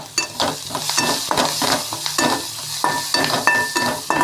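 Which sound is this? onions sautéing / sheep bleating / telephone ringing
onions sautéing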